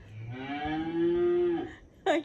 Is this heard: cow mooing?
yes